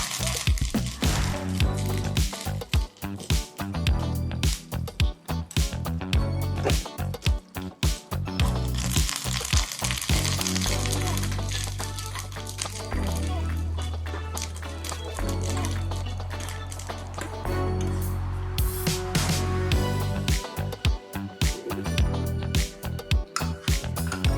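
Curry leaves and four chopped dried chillies fry in hot oil, giving a steady crackling sizzle with scattered pops that runs throughout over a constant tonal background.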